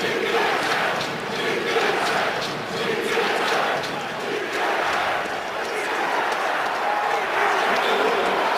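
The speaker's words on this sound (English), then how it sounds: "Crowd fully engaged on a 40-degree day here at Gillette Stadium" A stadium crowd roars steadily at Gillette Stadium during a cold NFL game between the Bills and the Patriots, a broad, continuous wash of cheering with a commentator talking over it.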